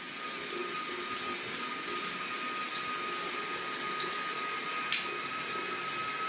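Hot water streaming from a light-changing shower head, a steady broadband hiss of spray, close and even, with a brief click partway through.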